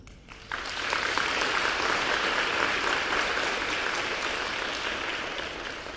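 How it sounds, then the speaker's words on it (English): Schoolgirls applauding their teachers at a primary school prize giving, clapping that swells in after a brief pause and then holds as a dense, even wash before easing slightly toward the end. "girls, I think they deserve a round of applause"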